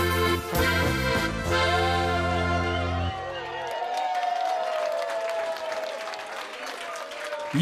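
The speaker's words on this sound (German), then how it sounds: "einen Applaus für diesen jungen, sympathischen Burschen" Audience applause at a spring festival folk music show, dense clapping and cheering that follows the end of a song, with a voice speaking over it as the clapping continues to fill the room.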